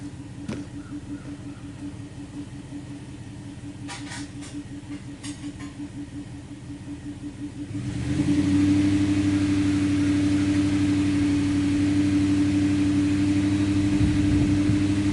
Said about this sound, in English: I'm going to go ahead and idle it up because I like to work it at about 1500 RPM.